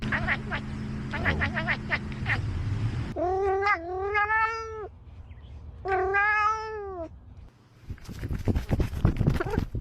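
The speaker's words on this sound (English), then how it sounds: "What beautiful kitty friends." Cats let out two long, drawn-out meows close by, each lasting over a second, with bursts of clattering background noise before and after them.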